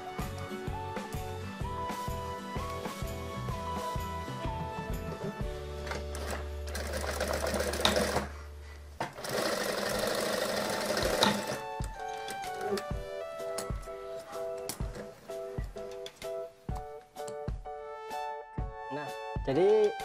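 A sewing machine stitches the side seam of a child's dress, running in quick rhythmic bursts of varying length with short pauses between them, close and clear under faint background music.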